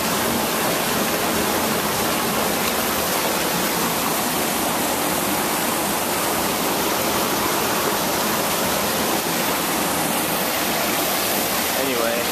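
A waterfall spills into a small pool while water rushes out and on downstream, making a loud, steady broadband roar that runs unbroken throughout with no clear voices.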